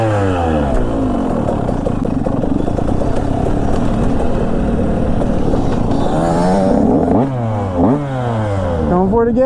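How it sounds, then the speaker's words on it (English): A two-stroke 150 enduro motorcycle rides close by with a raspy, buzzing engine that revs up and down in quick surges toward the end, loud and continuous. "The two-stroke 150 kind of sketches me out trying to learn wheelies."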